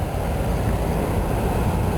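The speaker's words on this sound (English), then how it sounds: "the blower is working again" A GM vehicle's HVAC blower fan running after a blower control module replacement, a steady broadband whoosh of rushing air with an even low rumble, constant and close.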